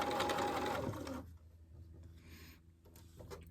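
A sewing machine stitches a formal dress hem in a rapid, dense whir for about a second, then stops, leaving faint ticks and quiet rustle.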